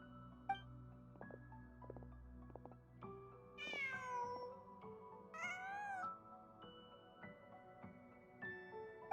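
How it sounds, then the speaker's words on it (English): A cat meows in a video game, several faint drawn-out meows spread over a quiet backdrop of soft game music. "Just a cat."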